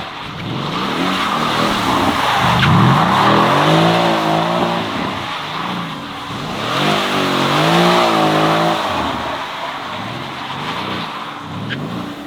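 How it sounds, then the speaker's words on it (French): A V8 drift car does donuts, its engine revving hard in repeated waves with screeching tire squeal, loud and close throughout and rising and falling as it circles. "admirer un peu le bruit du V8"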